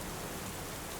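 Torrential rain pours down steadily in a heavy, continuous hiss that stays dense and loud throughout, with no voices present.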